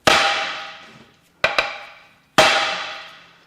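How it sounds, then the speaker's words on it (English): A hammer strikes an aluminum part of a Subaru TR580 CVT transmission four times, with a quick double hit in the middle; each blow rings out loudly and fades slowly. "we can just keep hitting it with a hammer"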